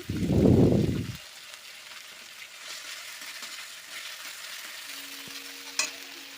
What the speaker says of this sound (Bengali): তো অল্প তেল দিয়ে দিচ্ছি, ভালো করে ভেজে নেব